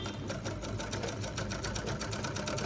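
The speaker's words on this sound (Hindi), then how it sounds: "अब देखिए हम सिलाई मारते हैं," An overlock sewing machine stitches fabric in a steady, rapid mechanical whir with a fast rhythmic patter, close and continuous throughout with no talking.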